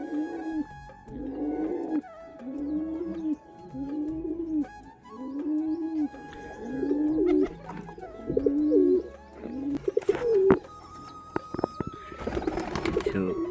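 Pigeons coo nearby in a repeated rhythmic series of soft throaty calls, followed by some rustling and a brief flutter of wings toward the end.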